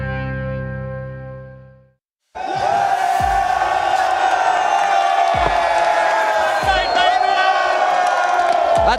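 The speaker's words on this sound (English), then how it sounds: "This crowd is insane" After a short musical tone and a brief silence, a packed esports arena crowd at IEM Melbourne 2025 erupts into loud, sustained cheering, whooping and chanting that fills the space.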